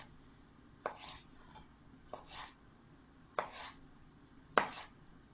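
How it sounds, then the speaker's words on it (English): A knife slicing a chili into thin strips on a cutting board, four distinct sharp chops spaced about a second apart, close and clear with no talking. "So I'm going to cut it all into thin strips."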